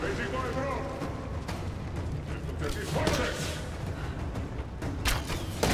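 Explosions and heavy booms in the video game Rise of the Tomb Raider, several bursts scattered over a constant rumbling combat din, with crackling impacts layered beneath.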